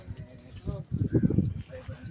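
Birds around Gopi Lake in Surat coo and call in low bursts that swell in the middle, fairly close, mixed with a few people talking nearby.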